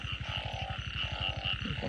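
A frog croaks in a fast, steady pulsing train at night in rural northeast Thailand during a frog-catching outing, loud and close, with a constant high insect-like drone behind it and no talking.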